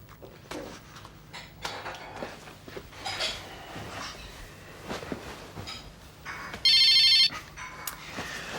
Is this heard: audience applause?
no